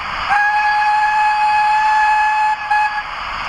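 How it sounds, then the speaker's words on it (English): A steady, high-pitched whistle from a Hornby NBR J36 model steam locomotive's sound decoder sounds for nearly three seconds, loud and close, with a brief dip in pitch near the end. "Nice long whistle there."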